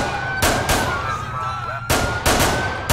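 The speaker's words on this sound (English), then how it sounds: "Yeah, we got gunshots. We got shots fired." Sharp gunshots crack out in two pairs of closely spaced bursts, loud and near, over a steady hum of background GTA IV LCPDFR police mod game audio.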